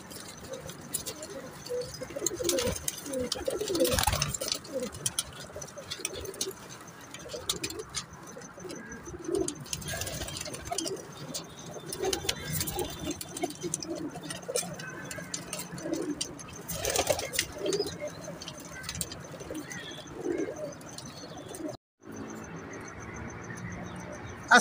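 Rooftop pigeons coo in soft, repeated rolling calls, several birds close by at a moderate level. Quiet outdoor ambience sits underneath, with a brief dropout near the end.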